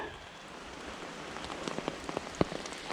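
Steady summer rain patters on a surface in a forest, with scattered louder drops tapping irregularly through a constant soft hiss.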